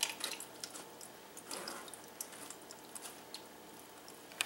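Extra water strains out of salted blue catfish caviar through a fine sieve, producing faint drips and soft wet trickling with a few small splatters up close.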